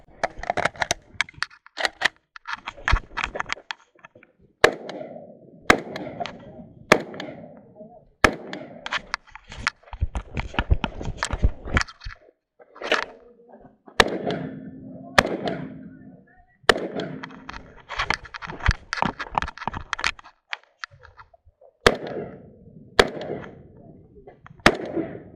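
Zastava M85PV rifle gunfire on a shoot house stage of a Texas Kalashnikov match, sharp cracks fired in irregular bursts and pairs across the stage, with faint voices now and then between shots.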